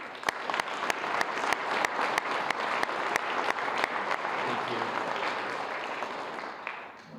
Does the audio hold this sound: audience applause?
yes